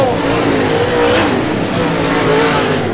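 Super late model race cars roar around Brownstown Speedway in a loud, continuous wall of engine noise that stays close and steady throughout, with no voices.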